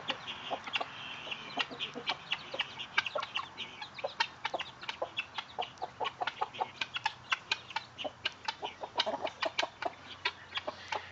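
A mother hen with newly hatched chicks gives many soft, rapid clucks and short calls in an irregular, busy rhythm. The sound is close but quiet.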